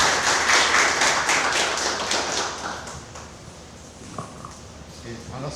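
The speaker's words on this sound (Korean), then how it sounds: "박수로 환영하겠습니다." Audience clapping to welcome a speaker at a Korean AI citizen education lecture, a dense burst of claps that fades steadily over several seconds and ends with a few scattered taps.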